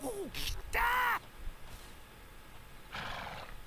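A horse neighs in the video game Dragon Quest VIII: a sharp whinny, then a louder sustained neigh lasting about half a second, and a fainter nasal snort near the end, all fairly close over quiet game background.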